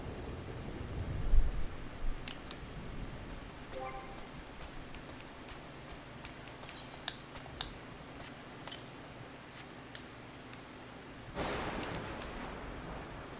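Steady rain falling in the video game Final Fantasy XIV, with a low rumble of thunder near the start and another swell near the end, plus scattered soft drip-like ticks throughout.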